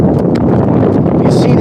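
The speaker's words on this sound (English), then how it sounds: "Wow, it's windy." Strong wind buffeting the microphone on a Brooklyn beach in New York City, a loud continuous roaring rumble with gusty surges throughout.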